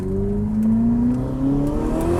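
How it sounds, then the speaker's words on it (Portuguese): Ferrari SF90 Hybrid with a V8 engine, its steady tone climbing gradually as it pulls hard under acceleration, loud and close, with no talk. "escape de V8"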